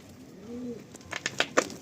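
A pigeon gives a soft, short coo inside a pigeon loft, followed by a few faint clicks and rustles, all fairly quiet and without speech.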